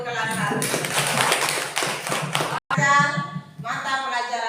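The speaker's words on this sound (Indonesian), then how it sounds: "Tepuk tangan untuk kelas 1" A primary school class claps together for first graders, a rhythmic patter of small hands mixed with children's voices and a teacher talking, briefly cut off before resuming.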